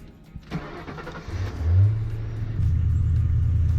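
A Ford F100 pickup truck cranks over with a few sputters, then its engine catches and settles into a loud, deep, steady rumble close by.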